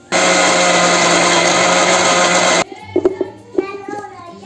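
A kitchen mixer grinder blending mango pulp for aamras runs loud and steady at close range for about two and a half seconds, then cuts off abruptly, followed by faint clattering and handling noises.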